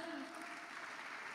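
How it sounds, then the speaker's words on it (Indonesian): An audience applauds during a talk at a seminar, giving a continuous, even patter of many hands clapping at moderate loudness. "Wow, tepuk tangan."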